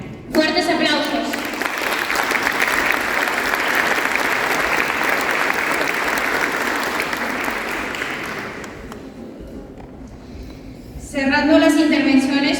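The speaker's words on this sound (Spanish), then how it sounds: "Fuertes aplausos." Strong, sustained applause from a crowd at a university parliament plenary session in Lima, loud and steady for several seconds before fading, with voices before and after.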